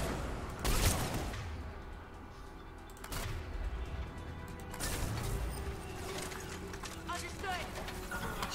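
Gunfire in Mass Effect 3 crackles in rapid bursts and a few heavy shots amid chaotic combat noise, with a voice talking over parts of it.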